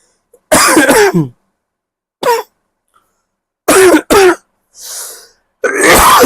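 A few sharp coughs and throat clearings, close and loud, separated by short silences, with a soft breathy exhale in between.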